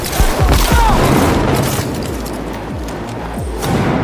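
A loud, booming explosion blows up enemies in the video game Cyberpunk 2077, with deep rumbling blasts and sustained roaring debris that fills the whole moment and leaves a dense, lingering low rumble.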